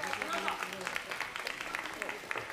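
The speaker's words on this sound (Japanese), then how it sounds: "もう一度大きな拍手をお願いします。" A live concert crowd at an outdoor summer festival in Hakone claps steadily, a dense, fairly distant patter of many hands sustained throughout without cheering or talk on top.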